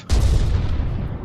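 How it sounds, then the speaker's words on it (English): A single heavy boom from a gun in a ship combat video game, a loud sudden blast with a long rumbling tail that fades slowly over about a second. "Itztli just shot itself"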